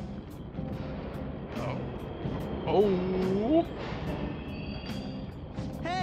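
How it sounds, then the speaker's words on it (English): Subway trains running in the video game Persona 5, a low rumbling roar with rising and falling squeals of wheels on rails, while a voice briefly exclaims over it. "Trains are totally running!"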